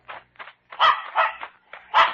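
A dog barks and whimpers in a run of short excited yips and woofs, close and fairly loud, with brief pauses between them.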